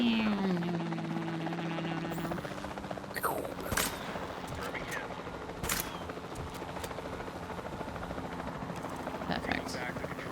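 Helicopter rotor drone from a tranquilizing run on a dinosaur in the game Jurassic World Evolution 2, a steady whirring bed with sharp dart-like shots and bursts over it, running under a voice talking throughout.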